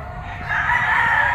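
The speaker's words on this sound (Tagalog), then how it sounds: "ang ganda ng mga dalang manok dito ng mga seller sa grotto" A yellow-legged Sweater-bloodline gamefowl rooster at a seller's grotto gives a loud, sustained crow, nearby and clear over faint background noise, with no talking.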